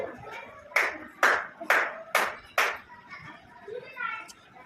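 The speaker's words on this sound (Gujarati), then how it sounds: "કોઈ કહેશે કેટલી તાળી પડી" Children in a classroom maths counting activity clap five times in a steady, evenly spaced rhythm, loud and close, with young voices chattering softly around the claps.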